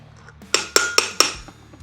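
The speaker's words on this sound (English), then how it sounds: "we're just going to give it a little tap with the hammer and take it out" Four sharp metallic taps land at an even pace, ringing briefly as a hammer strikes to knock the motor out of an Ariel Rider Grizzly V3, close and fairly loud.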